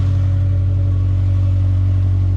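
A Subaru engine with about 346,000 miles, running in a steady, even idle hum with a strong low drone that does not change.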